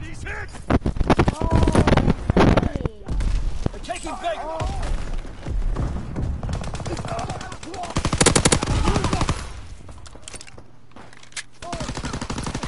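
Rapid bursts of submachine gun fire from the shooter game Call of Duty WWII on the close-quarters Shipment map, loud and repeated through the clip, with players shouting over the gunfire.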